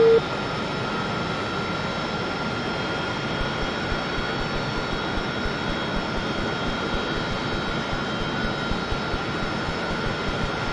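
Aircraft engine in DCS World during a start, a loud, steady drone with sustained whine tones holding constant throughout, no voices over it.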